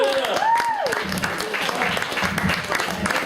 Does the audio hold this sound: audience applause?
yes